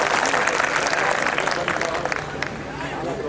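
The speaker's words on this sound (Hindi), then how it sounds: "आपने जितनी तालियां बजाई उससे तो मुझे यही समझ में आ रहा है कि आप उनको पीटने के लिए तैयार हैं।" A political rally crowd at a Rashtriya Muslim Morcha gathering breaks into loud, dense applause mixed with crowd noise, holding steady and then easing slightly.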